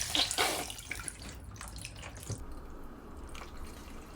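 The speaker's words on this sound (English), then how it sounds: "Add the herbs, wine, and broth." Herbs, wine and broth poured into a pot while making a short rib roast, a close liquid splash and trickle that is loud at the start and settles into a softer, steady stream.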